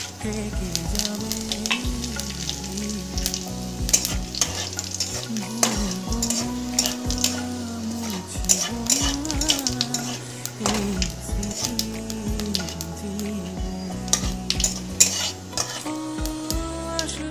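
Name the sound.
dried chillies and whole cumin sizzling in hot oil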